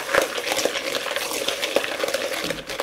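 A utensil stirs groundnut granules coated with egg in a dish, giving quiet repeated scraping and clinking strokes at close range with no talking.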